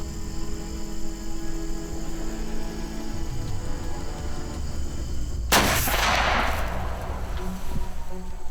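A single sharp, loud hunting rifle shot cracks out, fired at a doe during a youth deer hunting season in Virginia. A low rumble runs before it, and the shot rings out and fades with no talking.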